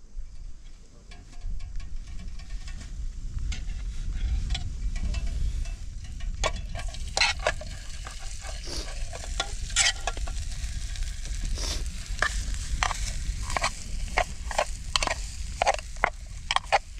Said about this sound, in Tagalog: Dahil marami tayong tirang kanin kagabi, magsasangag tayo.